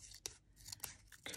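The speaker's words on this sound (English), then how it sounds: "I'm gonna try" Scissors snip paper in a few quick, faint, close cuts at a quiet desk while planner pages are being trimmed.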